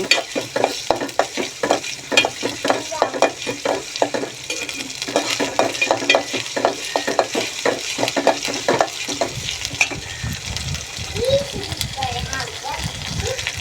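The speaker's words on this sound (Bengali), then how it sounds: "গোলমরিচ এলাচি বাটা দিয়ে দিচ্ছি। সাথে নাড়াচাড়া করে" Biryani spice paste of ground pepper and cardamom, with cumin paste, stirred in a frying pot, giving a steady rhythmic scraping and sizzling with a voice talking over it throughout.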